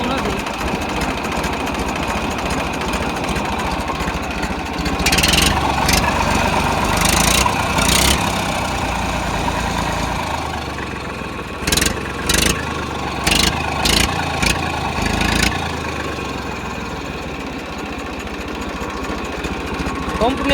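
An Eicher 380 tractor engine idles nearby in a steady low rumble that runs throughout, with brief louder surges and a voice speaking over it.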